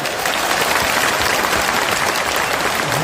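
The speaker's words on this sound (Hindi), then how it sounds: "जोर से ताली बजाएं।" A large crowd at a political gathering in Bapu Sabhagar hall applauds loudly, thick continuous clapping that stays at full strength for the whole stretch, with no voice on top.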